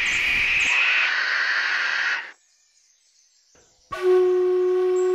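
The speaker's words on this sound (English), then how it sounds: "Mast owls are amongst the largest and the most powerful owls in Australia." A masked owl in the Australian bush gives a loud, harsh screeching call that cuts off abruptly, followed by a brief silence before another strong tonal call starts, close and clear with no talking.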